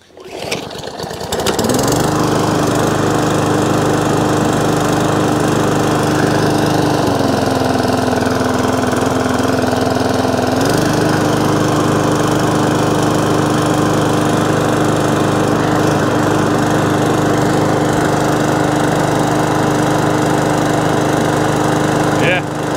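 A petrol lawn mower with a surging engine, being tested after a carburetor fix: it starts, then runs loud and close with a steady droning note that shifts pitch twice, without talk.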